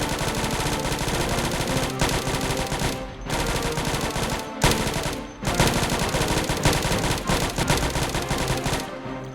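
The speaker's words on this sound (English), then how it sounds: "so I open fire." Rapid automatic gunfire in the zombie survival video game Project Zomboid, loud and sustained bursts with short gaps between them, dense and continuous over a long stretch, with no talking.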